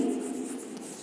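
A brief, soft scratch of writing on a board, heard close and without any talk.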